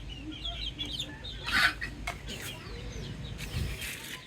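Chickens in a farmyard cluck repeatedly as they peck at pieces of bread, with short sharp calls and scuffling, fairly close and loud.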